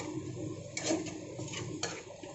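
Dried red chilli, nigella seeds and chopped garlic frying in a pan, a soft sizzle under a few scraping and clinking strokes of a spatula against the metal, fairly quiet and close.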